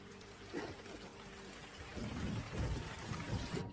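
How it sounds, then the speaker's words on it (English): Heavy torrential rain falling over African land, a dense steady wash of downpour with low rumbling thunder swelling in the second half, no talking. "Torrential rain tilts over the land of Africa."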